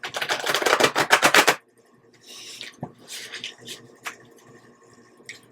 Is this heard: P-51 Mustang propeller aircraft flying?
no